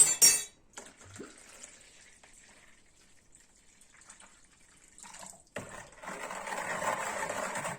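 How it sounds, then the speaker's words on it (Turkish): Spoon stirring a kara lahana cabbage pickle mixture with added water in a bowl, soft clinks and sloshing water, with a splashy pour at the start and louder swirling stirring toward the end. "Daha sonra üzerine su ilave ediyoruz ve karıştırıyoruz"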